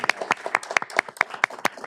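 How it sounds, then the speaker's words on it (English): Applause for corrections staff at a county Board of Commissioners regular meeting: a small group of hands clapping in a steady, brisk rhythm, close and distinct, with no voices over it. "Actually, I think they deserve a round of applause"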